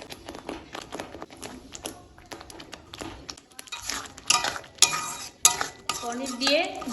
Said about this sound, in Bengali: এখন এর মধ্যে দিয়ে দেব পনিরের টুকরোগুলো।